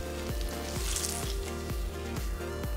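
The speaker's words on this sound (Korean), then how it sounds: "미역은 물기를 최대한 꾹 짜서" Soaked dried seaweed is squeezed hard by hand, giving wet squishing and dripping sounds in a regular rhythm of presses, close and fairly loud.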